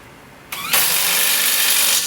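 Snap-on 3/8 impact wrench snugging a bolt during a 2006–2009 Honda CR-V front knuckle install: a sharp onset, a brief rising whir, then a loud, steady high-pitched buzzing run of about a second and a half that cuts off.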